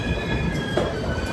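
A train at platform 9 of the Bengaluru railway station, near a WDP-4D locomotive, gives off a loud, continuous rumble with high squealing wheels throughout.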